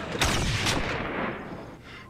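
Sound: gunshot from the TV series Firefly

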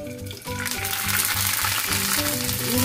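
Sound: noodles frying in hot oil

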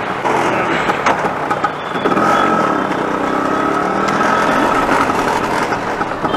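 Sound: scooter engine running as the ride starts

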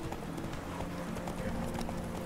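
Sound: horse galloping in a horse race, from video game The Witcher 3

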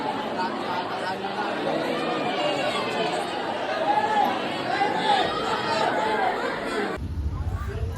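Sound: crowd waiting in line at Dronagiri temple festival

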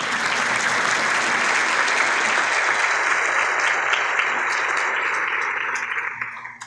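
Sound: applause

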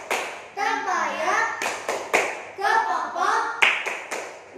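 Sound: rhythmic hand clapping in a children's clapping chant

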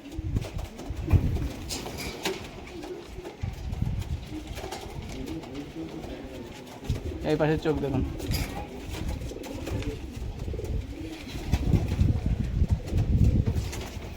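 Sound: pigeons cooing

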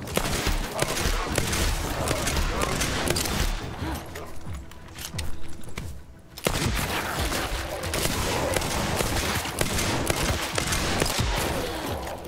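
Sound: weapon gunfire in video game The First Descendant

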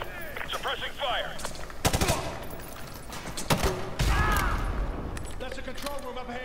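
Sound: suppressing gunfire in the video game MW2 Remastered

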